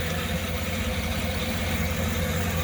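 2008 Cadillac Escalade ESV Platinum with a stock 6.2 liter V8 and stock exhaust idling, a steady, even rumble with broad mechanical hiss and no changes in revs throughout.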